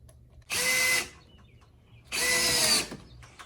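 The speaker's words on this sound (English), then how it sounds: "I'm gonna drill some pilot holes for the screws first." A power drill boring pilot holes for 1 1/4 inch anodized drywall screws on a screen porch, two separate whirring bursts of about half a second each, close and loud with a quiet pause between.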